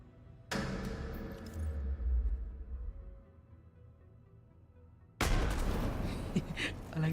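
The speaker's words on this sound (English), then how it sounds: "I like this explosion." Two heavy explosion blasts in The Division 2, the first a deep booming burst that rumbles and fades over several seconds, the second a sharper loud eruption near the end, with no speech.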